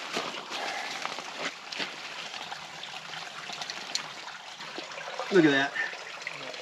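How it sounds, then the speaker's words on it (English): Water running from a roadside pipe in the Smoky Mountains, a steady trickling flow heard close by while a voice speaks briefly over it. "we found water in that pipe"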